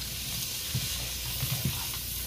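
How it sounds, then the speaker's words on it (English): Chicken fried rice frying in hot oil gives a steady hiss of sizzling, with a few soft stirring knocks near the end. It is moderately loud, with no voices over it. "You'll see a lot of sizzle."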